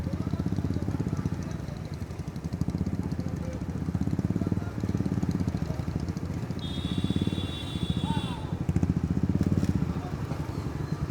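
Motorcycle engines rumble and rev continuously nearby on Kolkata streets during a BJP election victory celebration, a busy mix of bikes with crowd noise and voices mixed in.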